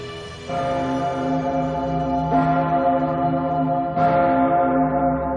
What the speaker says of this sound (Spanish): Cada vez que suena, la Pummerin, la mayor campana de Austria, recuerda el sitio de Viena.